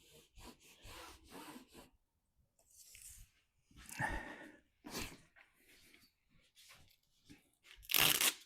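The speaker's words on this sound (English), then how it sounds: "So now let's remove the remaining tape." Leftover tape being peeled off a Lensun solar panel on a Ford Bronco hood, close, dry tearing and rubbing strips in short bursts with quiet gaps between, the last pull loudest.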